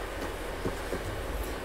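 A train passes in Red Dead Redemption 2 with a steady, close rumbling roll and faint clattering wheels, alone without speech.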